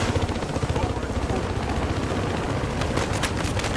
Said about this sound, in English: Chopper's out. That's a transport chopper!